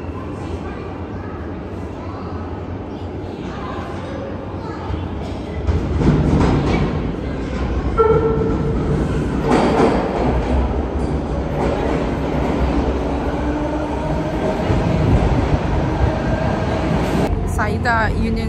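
A Toronto subway train rumbles through an underground station, with a steady low roar, rattling and a brief wheel squeal, growing louder partway through; a voice is faintly present beneath the noise.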